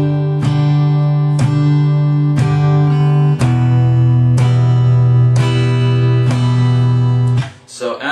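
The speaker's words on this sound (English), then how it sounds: "You can do just down, but it won't sound exciting when you're just going to go on every beat with a down strum" An acoustic guitar is strummed with single down strokes on every beat, eight even, ringing chords at a steady tempo, close and loud, ending with a muted stop.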